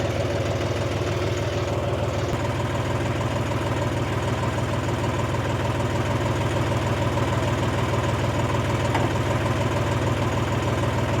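A diesel tractor engine idles close by, a steady low throbbing rumble with a regular knocking pulse, unchanging and loud for the whole stretch with no voices over it.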